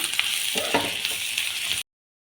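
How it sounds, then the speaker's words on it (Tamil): Onion and slit green chillies sautéing in a pan for a drumstick flower poriyal, a close, even sizzle broken by a few scraping stirs, then cutting off abruptly into silence. "வெங்காயத்தை நல்லா வதக்கிக்கணும்"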